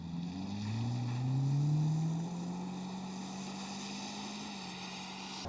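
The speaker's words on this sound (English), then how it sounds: "Giving this 2-liter base model some sauce." A 2023 Hyundai Kona 2-liter base model accelerates, its engine note rising steadily in pitch under road and wind noise heard from inside the cabin, then settling into a steady drone.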